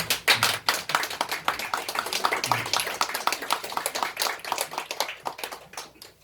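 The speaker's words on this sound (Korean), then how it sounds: "여러분 박수 한번 주세요" A church congregation claps during Sunday worship, brisk, fairly close hand claps, loud at first and then thinning and fading over several seconds.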